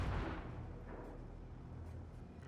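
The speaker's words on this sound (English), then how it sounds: "I am firing HE here." Naval guns firing HE shells in World of Warships: one deep booming salvo at the start that rolls off into a long fading rumble, with no voices.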